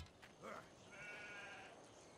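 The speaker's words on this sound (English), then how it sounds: "Let us get these sheep." Sheep bleat in Civilization V, a faint wavering bleat followed by a longer, slightly louder one, set against quiet game ambience.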